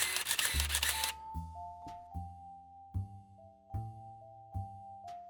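A Minolta Maxxum 7000 camera whirs as its motor advances the film, followed by several quick, evenly spaced mechanical advance clicks with faint ringing tones. The sound is quiet, close and has no talking.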